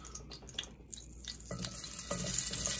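Food frying in a little grease in a skillet for a quick breakfast: a soft, faint crackle at first that swells into a brighter, steady sizzle partway through, close by with no speech.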